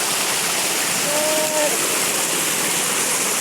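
A strong river current pouring over a small waterfall roars loudly and continuously, a dense unbroken rush of water close by with no pauses.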